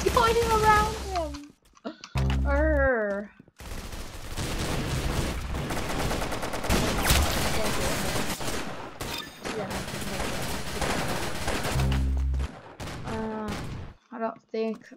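Rapid gunfire from weapons in Roblox Arsenal, loud bursts of shots running through most of the stretch, with short gaps where a voice talks between the volleys.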